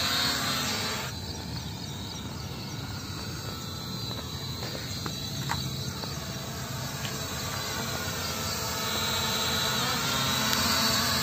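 An E88 camera drone in flight gives a steady high-pitched rotor whine over background hiss, with a few brief clicks in the middle and a louder stretch at the start.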